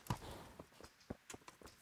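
Horse hooves clip-clopping in the Kingdom Come: Deliverance video game, a quiet, uneven series of distinct hoof strikes slowing as the horse walks.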